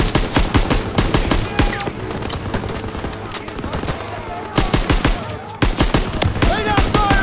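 Rapid machine gun bursts rattle loudly in Call of Duty: WW2 combat, dense rhythmic volleys with short pauses between them, shouted voices mixed in over the gunfire.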